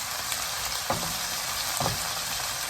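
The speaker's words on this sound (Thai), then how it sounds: "ใส่ผักเยอะๆนะคะจะผัดน้ำมันหอยสีดำนะคะ" Pork neck and broccoli stir-frying in black oyster sauce in a hot pan, with a steady, dense sizzle throughout and two brief bursts of louder crackling as the food is tossed or stirred.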